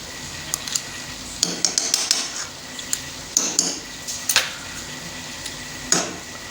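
A utensil stirs and scrapes halwa roasting in desi ghee with sugar and cardamom in a pan, sharp clinks and knocks of metal on metal coming in uneven bursts, close and fairly loud over a faint background sizzle, with no talking.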